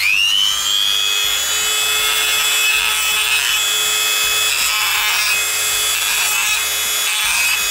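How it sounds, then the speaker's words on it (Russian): A milling cutter bevels the edges of a small metal pipe to prepare them for welding, giving a steady, loud grinding whir with a high metallic ring that holds throughout, close by with no talking. "Также будем обрабатывать кромки под сварку вот этой трубки."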